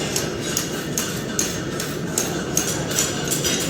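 A farrier hammers a horseshoe at a farrier competition. The hammer strikes ring out sharply and clearly at a steady rhythm, roughly every half second, over a constant background of shop and crowd noise.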